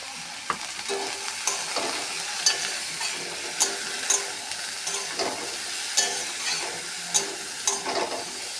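Okra and potato curry fries in a hot pan after turmeric and salt go in, giving a steady sizzle and hiss broken by scraping stirs. The stirs clack at a fairly regular pace, and no one speaks.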